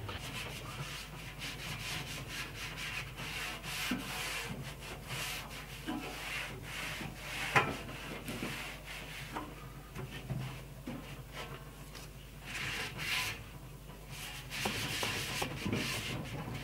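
A wooden Louisiana Grills brush scrubs a pellet grill with steady, continuous rasping strokes, close and fairly loud, filling the whole stretch without speech.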